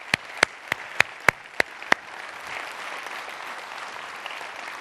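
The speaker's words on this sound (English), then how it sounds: "Let's have a round of applause for all of those sponsors." Audience applause for sponsors at a closing symposium speech: several sharp, loud individual claps up front, then a softer, diffuse wash of crowd clapping that continues to the end.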